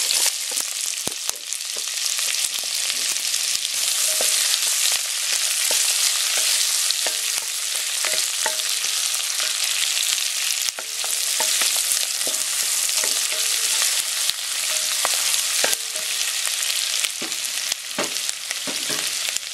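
Onion sizzles steadily in a hot pan for Japanese-style curry rice, a continuous dense frying hiss with occasional clicks and scrapes of stirring, close and loud with no talk.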